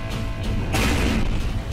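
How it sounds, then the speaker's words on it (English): Practical explosions in the Satyameva Jayate Hindi movie trailer, a loud broadband burst of blasts and crashing debris that swells partway through, mixed with trailer soundtrack. "Explosions, practical explosions."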